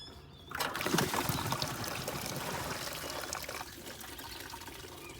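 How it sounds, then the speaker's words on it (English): Coolant mixed with flush treatment drains from a car radiator's loosened bottom hose, making a continuous splashing pour that holds steady for several seconds with no one talking. "undoing that bottom hose like we did before to release the coolant that's in there with the flush treatment"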